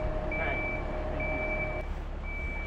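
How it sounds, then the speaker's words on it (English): A truck reversing with a boat trailer sounds repeated high reversing beeps in an even rhythm over a steady engine drone and outdoor noise, fairly close and with no talking. "I cannot believe how he's able to maneuver around that truck and trailer."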